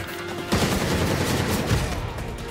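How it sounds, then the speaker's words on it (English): Continuous rattling gunfire from the Gotham Knights video game during a Heroic Assault fight, a loud, dense burst that rises sharply half a second in and keeps going without pause. "Watch it, I'm about to shoot."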